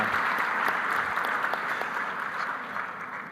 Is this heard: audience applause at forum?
yes